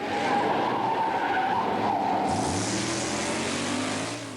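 Tires of a drag racing car skid and squeal loudly and continuously, with an engine revving and a sharp high screech cutting in partway through, close by and without talk.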